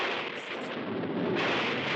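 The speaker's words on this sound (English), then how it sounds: "Lightning and thunder. Start with a storm." A stormy rumble of thunder with rain-like hiss, steady and broad throughout, swelling slightly in the second half, with no voices.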